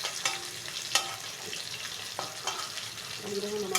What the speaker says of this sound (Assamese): মাছকেইডোখৰ নমাই ল'ব অকণমান এনেকুৱাকৈ ভাজিছোঁ